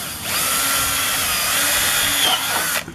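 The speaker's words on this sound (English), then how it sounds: "I'm just going to drill it here" Power drill boring into wood while building a compost tumbler, a close, steady whine running for nearly three seconds before cutting off near the end.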